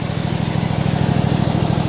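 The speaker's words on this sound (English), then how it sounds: "the engine's still running" A lawn mower engine idles steadily during a service run, loud and close. Its low, even throbbing pulse continues without a break and no voices are heard.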